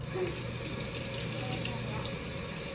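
Tap water runs steadily into a sink while sugar and cookie dough are washed off hands, a constant close gush with a faint voice underneath.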